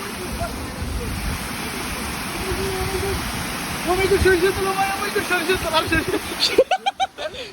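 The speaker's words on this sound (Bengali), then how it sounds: "কৃত্রিম ঝর্ণা।" An artificial waterfall at a zoo rushes in a steady broadband wash, close and continuous, while people talk over it toward the end.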